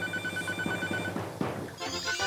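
A telephone rings in the Papa's Cluckeria To Go cooking game, a bright repeating electronic trill with steady pulses over soft game music, then a short chime and a shift in the background tones.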